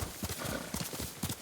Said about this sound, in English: But our horse is called Nobu this time